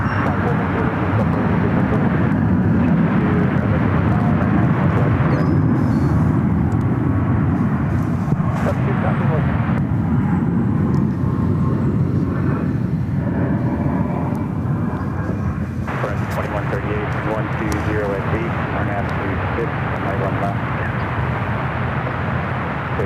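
China Eastern Boeing 787 Dreamliner, flight 590 to Shanghai, taking off at San Francisco airport: a loud, steady engine roar holding for over twenty seconds, with voices talking intermittently over it.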